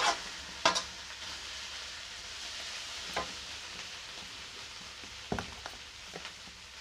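Pakoras being stirred as they fry in spiced masala, a steady sizzle beneath a few sharp scraping clinks of the spoon against the pan, close and moderately quiet.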